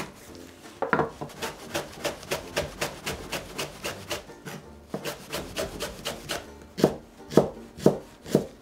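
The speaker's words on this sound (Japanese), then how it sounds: "ネギは輪切りにしていきます。ちょっと今日ネギ大きいから半月にしますね。" A knife slices a Japanese long green onion on a cutting board in a series of crisp, evenly spaced chops, close and fairly quiet, pausing briefly midway before the rhythm resumes with a few harder strokes.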